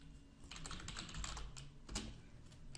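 Keys clatter on a computer keyboard in quick, uneven bursts of soft clicks, faint and close, with no voices.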